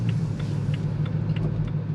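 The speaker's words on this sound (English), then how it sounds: "You hear the baritone V8, you hear the engine noises." A 2013 BMW M3 Lime Rock Park Edition with a naturally aspirated V8 rumbles at a steady low idle, close and continuous, with faint ticking engine noises above the deep hum.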